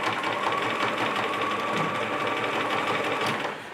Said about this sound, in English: That is a lot of fabric to stitch through, so go slowly. Give your machine, a break.